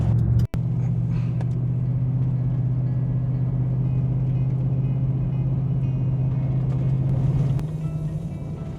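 Stock all-wheel drive car on all-terrain tires driving a backcountry dirt trail, giving a steady low engine rumble and road noise that holds loud and close, then eases off near the end after a brief knock early on.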